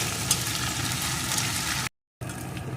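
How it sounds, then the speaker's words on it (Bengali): Mung dal frying in a pan, giving a steady, broadband sizzle throughout, with a short gap of silence near the end before the sizzling resumes. "এখন এই ডালটা একটু ভেজে নেবেন"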